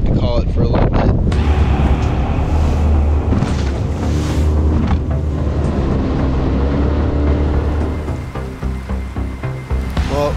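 Strong wind buffets the microphone on the Texas saltwater flats near a docked fishing boat, a loud, continuous low roar with gusts that ease slightly toward the end.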